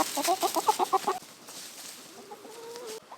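Several chickens cluck in quick rhythmic bursts up close, loud at first, then trailing into softer, drawn-out calls over quiet background noise.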